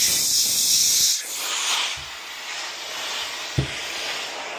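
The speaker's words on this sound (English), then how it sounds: "once I hear it start venting, I'm going to do about a quarter turn more and then put it in the towel here" Compressed air escaping from a paintball air tank venting through its regulator, a steady broad hiss that starts loud and then continues more muffled under a towel, with one brief click near the end.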